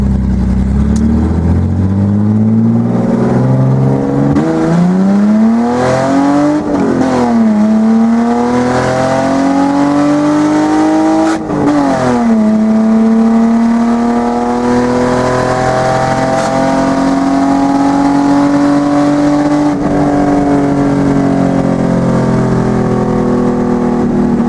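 A 1979 Datsun 280ZX with upgraded intake, headers and exhaust runs loud and close. The engine idles with a deep hum and is revved in several rising and falling sweeps before settling to a steady, higher drone.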